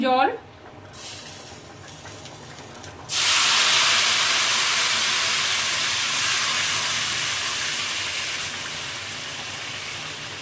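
Hot water poured into a hot pan with fried bay leaves bursts into a loud, sustained hiss of steam that holds steady and slowly eases, close by, after a brief moment of speech and kitchen clatter.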